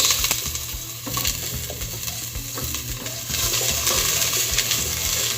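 Ginger and onion sauté in smoking-hot oil for a cabbage dish, a loud continuous sizzle up close with scattered metallic clinks and scrapes as the pan is stirred.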